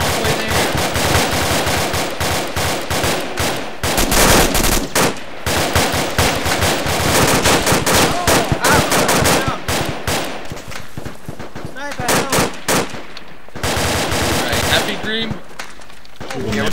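Incoming gunfire in a military game set in Sangin: dense, loud machine-gun bursts and rifle shots crackle almost nonstop with brief gaps, and voices talk underneath.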